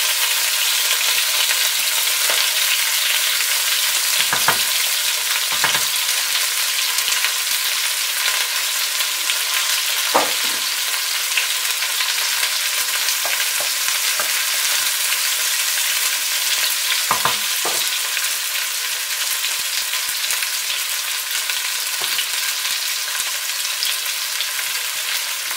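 Onions fry in a pot for plov, giving a constant loud hiss of sizzling oil with occasional soft knocks from stirring, close by and with no voices.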